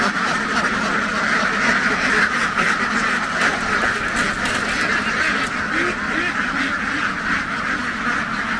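A huge flock of laying ducks in the Mekong Delta countryside of Vietnam quack continuously as they run back to their pen, a dense, loud, unbroken chorus of many birds at once.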